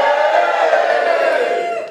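An audience at a character comedy show cheering and whooping together, a loud, sustained crowd roar from many voices that tapers off at the end.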